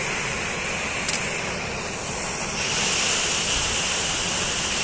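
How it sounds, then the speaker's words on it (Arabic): Zerdaba waterfall in Taza province, Morocco, roars as a loud, continuous wash of falling water heard up close, broad and unbroken, with wind buffeting the microphone briefly. "الناس اللي كيسولوا على هذا الشلال هو هذا الشلال جد رائع."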